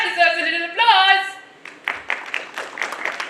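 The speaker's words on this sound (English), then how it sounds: "I think that deserves a little applause." Audience at a school class assembly breaking into scattered clapping after a speaker, a few seconds of light applause that follows a stretch of speech.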